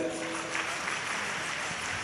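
Audience applause at a Shiv Mahapuran religious discourse gathering, a dense, steady wash of clapping from a large crowd lasting the whole moment.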